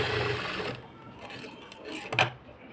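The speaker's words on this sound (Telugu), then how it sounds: "ఇలా సెట్ చేసుకొని మనం ఇప్పుడు 5వ నెంబర్ కుట్టు వేసుకోవాలి." A sewing machine stitching a blouse runs in a short close mechanical whir that stops, followed by a few faint clicks and a brief knock as the fabric is adjusted.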